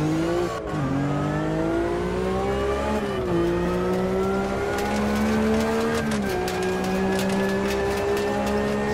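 A powerful rear-wheel-drive race car in the Automobilista 2 sim, revving hard with a steady high engine drone that dips and climbs as it tries to spin into a donut, loud and continuous, with faint tyre scrub.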